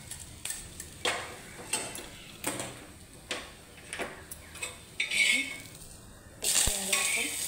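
Oil sizzles in a pan while roasted green beans are stirred, with a steady frying hiss broken by sharp scraping and clinking of a utensil against the pan, close and moderately loud.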